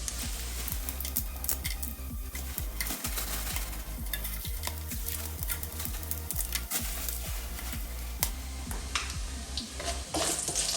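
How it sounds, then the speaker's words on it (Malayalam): Whole biryani spices such as cinnamon, cloves, fennel, pepper and star anise fry in ghee in a pot, giving a constant close sizzle broken by repeated stirring scrapes and taps. "നെയ്യ് ചേർത്തതിന് ശേഷം അതിലേക്ക് നമുക്ക് ബിരിയാണി കൂട്ടി ചേർത്ത് കൊടുക്കാം."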